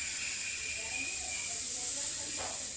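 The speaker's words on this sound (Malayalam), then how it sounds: "ഓരോ തവി എടുത്ത് ഇങ്ങനെ ഒഴിച്ചാൽ മതി." Batter ladled onto a hot pan for muttapathiri gives a steady hiss and sizzle, with a brief louder burst near the end.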